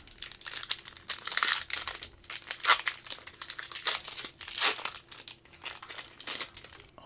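Foil pack of Alien 3 trading cards being torn open and crumpled, close crinkling bursts in irregular waves.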